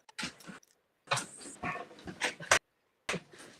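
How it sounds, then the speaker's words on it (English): A dog pants and whimpers in short bursts close by, several breathy and squeaky spells broken by brief pauses, with no one talking. "you're letting your dog in?"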